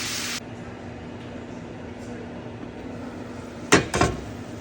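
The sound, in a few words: lid being placed on a pan of prawn curry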